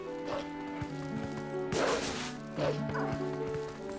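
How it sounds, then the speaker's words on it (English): Several dogs bark and yip in quick overlapping bursts in The Legend of Zelda: Twilight Princess, over a steady musical background, with light clopping sounds mixed in. "That is a lot of fucking dogs."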